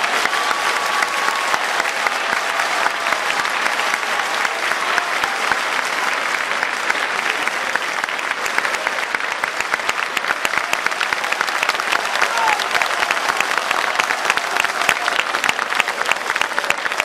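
An audience in a church breaks into sustained applause, dense clapping that stays loud and even from start to finish, filling the room with no voices over it.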